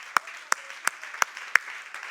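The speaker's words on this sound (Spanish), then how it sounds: "Dale un aplauso, Señor." Hands clap in slow, evenly spaced unison at a Spanish-language church worship service, five or six sharp, distinct claps about a third of a second apart over a faint background hum.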